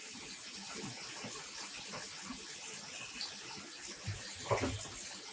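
Zip ties rinsed of dye specks in a basin of water while dyeing yarn at home: continuous close sloshing and trickling, with a louder splash near the end and no speech.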